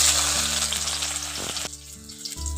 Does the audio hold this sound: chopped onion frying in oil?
yes